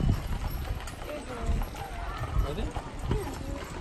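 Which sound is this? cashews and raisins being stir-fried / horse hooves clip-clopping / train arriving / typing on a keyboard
horse hooves clip-clopping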